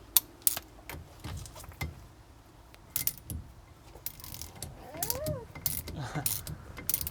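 A ratchet wrench clicks in short bursts of rapid ticks, close by, between metallic clatters and handling noises, while working on a Renault 4L.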